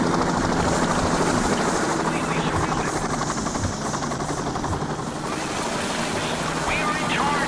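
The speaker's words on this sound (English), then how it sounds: "Choppers and SWAT vans all over the place around you." Police helicopter in the Payday 2 video game, a steady loud rotor drone that fills the whole stretch, with game sounds and voices mixed beneath it.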